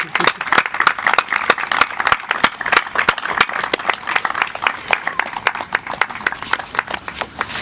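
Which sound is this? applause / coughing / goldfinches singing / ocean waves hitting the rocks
applause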